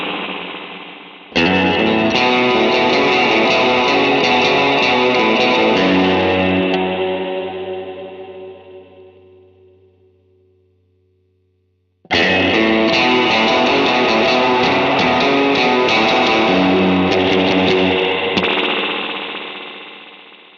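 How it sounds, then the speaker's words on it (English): Electric guitar played through a Fractal AX8 spring reverb set to six springs with the spring tone turned up, two bright strummed chords each ringing out into a long, splashy, drippy reverb tail that slowly decays. "Like if we go to 6 springs and we turn the spring tone up, it sounds like this."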